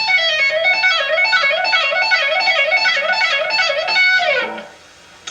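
Rapid legato guitar phrase of hammered and pulled notes, smooth repeating melodic runs over several seconds, ending with a quick descending slide into silence.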